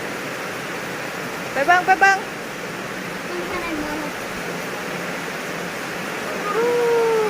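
Heavy rain pours down in a steady, dense rush during a rainstorm in Laos. Someone speaks briefly over it, and a few short tonal whistles or calls rise above the downpour.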